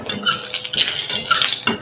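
Cinnamon and cardamom tempering with dried red chillies, stirred in a frying pan with steady scraping and clinking of a utensil against the metal over a soft sizzle, close and continuous.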